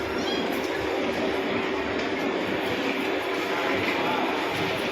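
A passenger train travels from Junagadh toward Ujjain, its steady, close rumble and rolling carriage noise running unbroken beneath a faint electrical hum.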